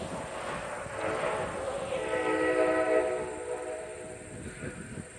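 A train rumbles past at a moderate distance, its horn sounding a sustained chord that swells and then fades into the rolling clatter of wheels.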